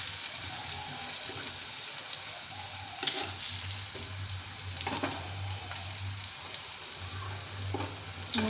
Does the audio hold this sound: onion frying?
yes